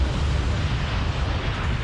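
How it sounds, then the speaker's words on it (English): An oil refinery explosion in Texas, triggered by a flawed unit startup: a loud, continuous deep roar and rumble that fills the whole stretch without easing off. "There's no question in Holmstrom's mind that the flawed startup is to blame for the explosion."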